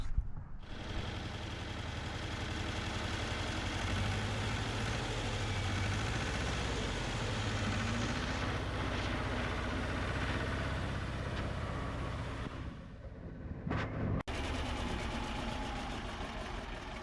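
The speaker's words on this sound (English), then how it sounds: "I think the next stage is here to start up Svetlana" A Belarus 250AS tractor engine starts and rumbles steadily at idle, a low continuous chugging drone, with a brief dip and a sharp knock near the end.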